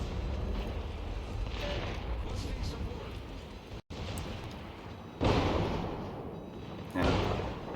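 Battleship main guns fire in the naval combat game World of Warships: two heavy booming blasts land a couple of seconds apart near the end, over a constant rumbling game backdrop.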